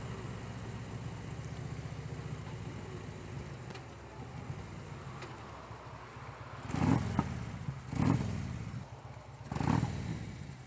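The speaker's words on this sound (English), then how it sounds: "I don't like revving my engine like that because I don't like making noise." A motorcycle engine idles with a steady low rumble, then revs up sharply three times in short bursts near the end.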